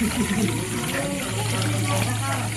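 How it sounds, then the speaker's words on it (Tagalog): Water is poured into a pot while pancit is cooked outdoors under hot sun, a close, steady splashing pour with a low background hum, and a person talking over it. "lagyan na natin ng tubig"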